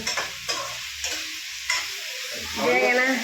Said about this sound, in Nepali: यो बेगेना अब फ्राई भइहाल्छ